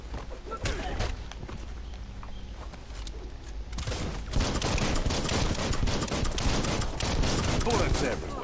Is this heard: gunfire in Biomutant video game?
yes